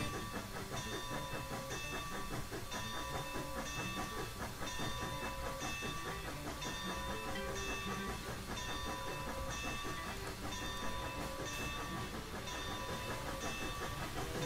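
Freight train in the Railworks simulator game, a continuous steady rumble with hiss and rhythmic rail clatter throughout, dense and even in level, with no voices.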